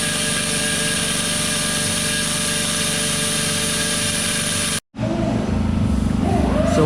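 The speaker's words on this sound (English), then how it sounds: "Dre is cutting and porting the snout out so we can fit the 102 mil throttle body on that." A power tool cuts and ports the snout of a supercharger to fit a 102 mm throttle body, a loud steady high whine that stops briefly and then comes back rougher.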